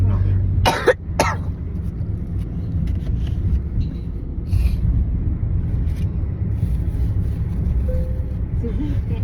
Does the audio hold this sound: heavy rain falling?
no